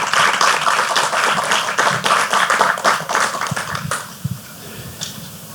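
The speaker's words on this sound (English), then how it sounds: "Round of applause for our speakers." Short burst of audience clapping for the speakers at a panel on sports, physical activity and mental health, loud at first then dwindling to a few scattered claps and knocks.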